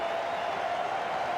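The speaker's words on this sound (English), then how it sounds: "the crowd here at Eden Park have gone absolutely crazy" Crowd at Eden Park roaring after a superb caught-and-bowled catch in a 1992 World Cup cricket match between New Zealand and Australia, a dense, steady wall of cheering and applause throughout.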